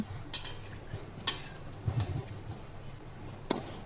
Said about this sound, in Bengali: সব কিছু হালকা একটু নেড়ে চেড়ে নিয়ে এটাকে আমি ঢাকা চাপা দিয়ে পাঁচ মিনিটের জন্য কুক করে নেব